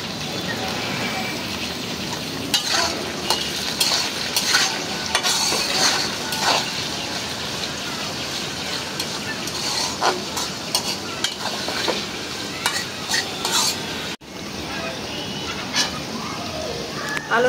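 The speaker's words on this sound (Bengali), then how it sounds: "এখন তেল পেঁয়াজের সাথে আমি আলুটা একটু ভাজা নিব" Potatoes fry in hot oil with already-browned onions, giving a steady sizzle broken by repeated scrapes and stirs of a spatula against the pan, with a brief dropout near the end.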